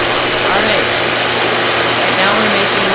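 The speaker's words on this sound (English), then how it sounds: "We'll go in the champion juicer to crush the nibs into the liqueur." Champion juicer crushing cocoa nibs into chocolate liquor, a loud, steady, dense motor whir and grind running unbroken throughout.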